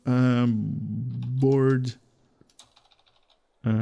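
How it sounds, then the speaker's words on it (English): A computer keyboard is typed on during a Star Trek Online gameplay session, with a short run of light, quick keystroke clicks between stretches of someone talking. "Keyboard, if I can type."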